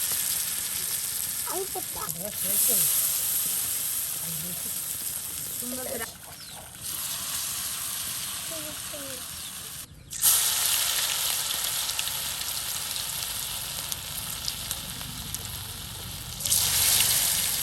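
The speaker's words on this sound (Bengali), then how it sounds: "কিন্তু ভেজে নেওয়া হবে।" Iftar snacks such as beguni, potato chops and piyaju deep-frying in hot oil in a village kitchen, a loud continuous sizzle that briefly drops and surges as pieces go in, with faint voices in the background.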